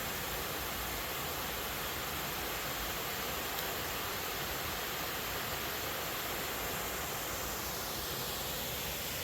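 Waterfalls below an old 1890s copper mine in wet Washington woods pour out a dense, steady roar of rushing water that fills the scene at constant loudness.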